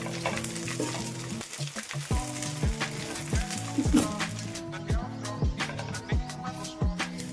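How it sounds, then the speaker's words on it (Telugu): Moringa leaves frying in hot oil until crispy, a continuous close sizzle with regular scraping stirs of a spatula in the pan. "నేను రెండుసార్లు ఫ్రై చేసుకుంటాను క్రిస్పీగా వచ్చే వరకు ఫ్రై చేసుకోవాలండి"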